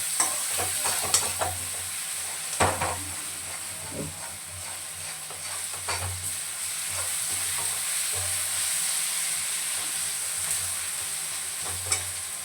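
Onions with salt stirred in a frying pan, a steady sizzle of oil under intermittent scraping and clinking of the spoon against the pan, close up with no talk.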